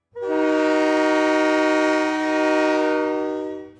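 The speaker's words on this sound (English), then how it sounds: "Our next noise is a big freight train." A big freight train's horn sounds in one long, loud, steady blast of several seconds.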